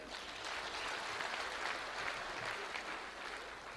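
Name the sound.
mourners applauding at a burial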